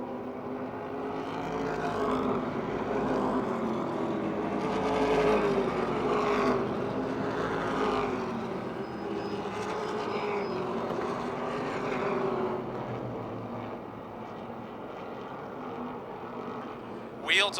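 Race cars roar around Motordrome Speedway in a 2009 race, running wheel to wheel mid-race. A steady, swelling engine drone carries under continuous commentary from an announcer.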